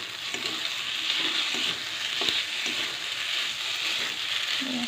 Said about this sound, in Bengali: সিদ্ধ পাস্তাগুলো দিয়ে দিচ্ছি। দেখো অল্প অল্প করে দিয়ে দিয়ে নাড়বো এখন।